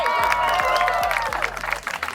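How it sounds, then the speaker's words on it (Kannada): A group applauds in a dense burst of clapping that holds steady, then thins out and tapers off. "Okay, great. ಚಪ್ಪಾಳೆ."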